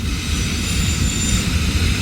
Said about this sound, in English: Going on almost 10 minutes of this train going through.